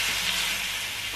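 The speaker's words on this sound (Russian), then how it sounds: "Креветки, кстати, всего одну минутку держим на сковородке." Shrimp sizzle in a frying pan with garlic as pasta is made, a steady loud frying hiss with no break and no talk.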